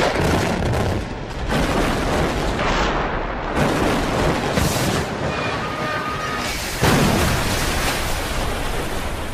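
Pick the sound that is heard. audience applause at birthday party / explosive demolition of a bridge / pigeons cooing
explosive demolition of a bridge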